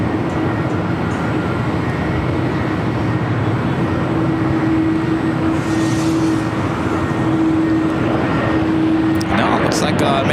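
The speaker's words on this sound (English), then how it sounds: "Maybe the United Dreamliner flight that was heading to Tokyo Narita," United Boeing Dreamliner taxiing at LAX, a steady, even rumble of jet engines at idle that holds throughout, with a faint tonal whine joining midway and a few brief higher noises near the end.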